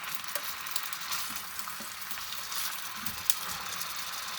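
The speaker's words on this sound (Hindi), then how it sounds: "एक साइड से जब ये फ्राई हो जाएंगे तो इसको दूसरी साइड इसकी पलट देंगे" Beef seekh kebabs fry in hot oil in a pan, giving a steady, dense sizzle with small crackles and pops throughout and one sharp pop near the end.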